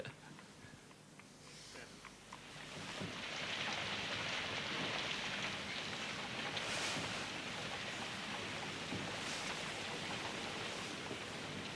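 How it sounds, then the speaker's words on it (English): Heavy rain falling outdoors, beginning softer and swelling after a few seconds into a dense, steady hiss of downpour that continues unbroken. "it's raining, Plantagenet. Very hard indeed."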